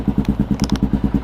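A Kawasaki KLR650 motorcycle engine idling after a rebuild, a close, steady single-cylinder thump repeating about eight times a second, with a brief metallic clatter partway through.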